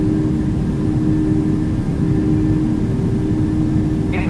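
Airliner engines at takeoff thrust on the runway, a loud, steady low roar with a constant hum heard from inside, and no talking.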